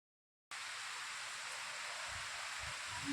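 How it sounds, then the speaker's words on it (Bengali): Heavy rain pours steadily after a lighter shower, under a dark clouded sky during a storm, a dense even hiss that starts abruptly and continues without a break, with no voices. "হঠাৎ আবার জোরে বৃষ্টি নামলো"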